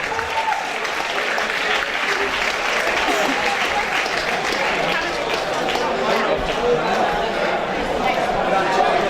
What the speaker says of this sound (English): Big round of applause for both of these fighters